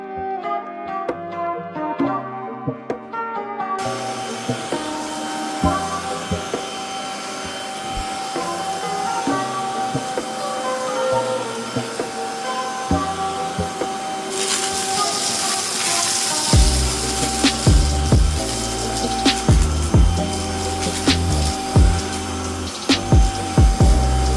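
A Kalado cordless vacuum cleaner runs with a steady motor whine that keeps going without a held trigger. It is close and loud, with a harsher suction roar later on and clattering bumps as it moves over the floor.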